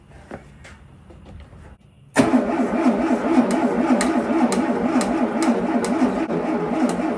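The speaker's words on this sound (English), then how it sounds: "So we're gonna see if this thing will fire up. That battery sounds weak." A 1972 Volkswagen Beetle engine, parked for over 35 years, turns over slowly on a weak battery, then catches into a steady, loud mechanical run with a rhythmic wavering pulse; faint clicks and quiet handling noises come before.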